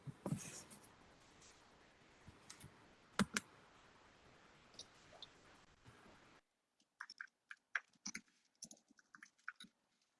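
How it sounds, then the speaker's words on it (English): Fingers type on a computer keyboard in the background, producing faint scattered clicks and taps, first under a low hiss and then more distinctly against near silence. "Maybe some fingers are typing in the background"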